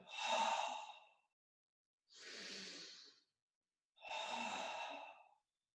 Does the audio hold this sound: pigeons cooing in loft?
no